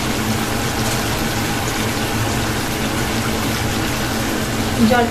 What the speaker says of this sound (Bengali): দিয়ে দিলাম যে মশলা বাটির যে ধোয়ার জলটা